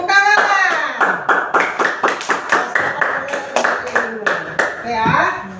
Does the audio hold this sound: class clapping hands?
yes